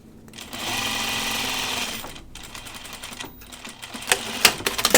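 Sewing machine running a back stitch along the waist seam of a kimono-style garment, a steady whirring burst early on, then quieter intermittent stitching with sharp clicks and fabric handling toward the end; no talk.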